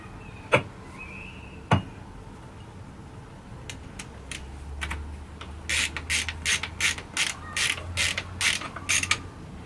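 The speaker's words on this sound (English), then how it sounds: "So let's get the rest of these bowl screws in here." Small screws being driven into the float bowl of a Kawasaki KZ400 carburetor, heard as a run of quick, close ratcheting clicks in short bursts, with a couple of sharp knocks before and a low hum underneath.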